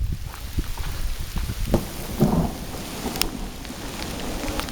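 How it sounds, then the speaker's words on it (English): Thunder rolls through a wilderness rainstorm, a low rumble swelling out of steady, hissing rainfall with drops pattering close by. "Hear the lightning there, I mean the thunder."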